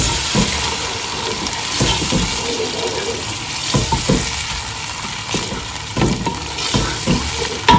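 A ketchup sauce mixture is stirred in a bowl or pan, giving a wet, sloshing, scraping sound with repeated stirring strokes that grow a little stronger toward the end.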